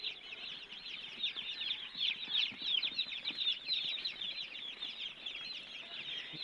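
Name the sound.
broiler chickens clucking on a farm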